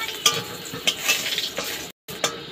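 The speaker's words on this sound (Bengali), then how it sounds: "এবার বড়িটা আমি ভেজে নিচ্ছি।" Dried lentil dumplings (bori) fry in oil in a wok, a soft crackling sizzle broken by a few sharp scraping stirs and clicks, close and fairly quiet, with a brief gap of silence.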